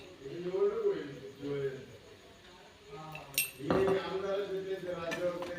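Utensils toss Indo-Chinese Hakka noodles in a pan, making light metallic clinks and scrapes with one sharper clatter near the middle, faint beneath a person talking.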